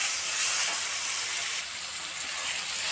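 Ginger garlic paste frying in a pan for fried chicken curry, a steady bright sizzling hiss that continues without a break, close and fairly loud.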